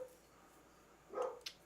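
A dog barks as someone arrives home, giving a short burst of a bark or two that sounds somewhat distant in an otherwise quiet room.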